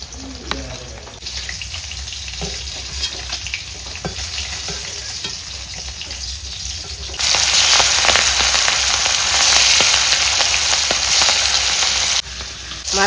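Hilsa fish sizzle and crackle in hot oil, getting louder midway as more goes into the pan, with occasional stirring scrapes.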